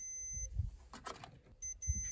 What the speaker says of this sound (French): si ça fait bip bip, c'est qu'il y a bien la continuité